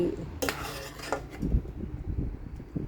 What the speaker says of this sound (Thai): พร้อมตักใส่ถ้วย